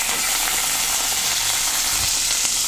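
Curry leaves and dried red chillies frying in hot oil give a loud, continuous close-up sizzle with bright crackling throughout, no voices.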